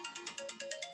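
A phone ringtone plays a quick repeating electronic melody of short bright pulses at a steady rhythm, fairly quiet and alone.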